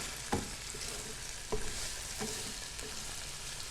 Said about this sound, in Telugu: ఇప్పుడు ఇది అల్లం పేస్ట్ ఈ ముక్కలకు పట్టే వరకు ఫ్రై చేసుకోవాలి.